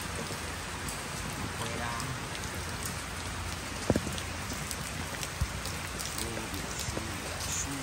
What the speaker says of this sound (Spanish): Lluvia, lluvia, no para.